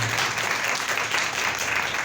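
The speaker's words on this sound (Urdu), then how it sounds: "زوردار تالیاں خدا کے فضل کے لیے بجائے۔" A church congregation applauds with loud, dense, continuous clapping that fills the space evenly for about two seconds, many hands together at close range.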